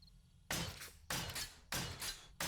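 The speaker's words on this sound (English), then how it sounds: "I swear the claw hammer is faster on repair" Claw hammer blows repairing a base in 7 Days to Die: four loud, sharp impacts spaced about half a second apart, each ringing briefly before the next strike, with nothing else in between.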